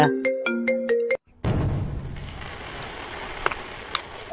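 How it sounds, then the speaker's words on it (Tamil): A phone ringtone plays loud and near as a bright repeating chime pattern, cuts off briefly, then gives way to faint household noise with a few scattered tones during a Deepavali night at home. "இந்த நேரத்துல யார் போன்ல?"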